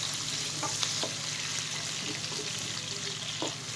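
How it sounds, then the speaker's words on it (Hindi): Onions frying in a wok-style kadhai for a paneer curry give a steady, soft sizzle and crackle, close and continuous, with faint stirring clicks and no talk. "प्याज डाल रही हूँ थोड़े से, इसको खुलने तक, थोड़ा सा ब्राउन होने तक इसको देंगे भून।"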